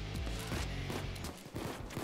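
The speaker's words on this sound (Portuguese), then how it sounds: "Dois tiros." Rapid gunfire from a powerful weapon in the Payday 2 video game, with dense, loud bursts of repeated shots running through the whole stretch amid other game noise.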